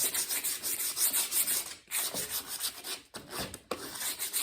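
Sandpaper roughing up the wooden handle of a garden tool: steady, close scratchy rubbing strokes with a few brief pauses, no talking.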